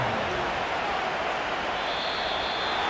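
A steady, dense wash of stadium crowd roar in a simulated Bills vs. Patriots football game, a loud continuous din with no breaks that holds level from start to finish.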